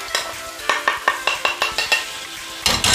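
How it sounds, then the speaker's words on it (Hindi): Cooked chicken with dry coriander and kasuri methi stirred in a hot pan for a burger filling, a close, regular series of about ten scraping strokes over a soft sizzle. "अब हम इसे अच्छे से मिक्स कर लेंगे।"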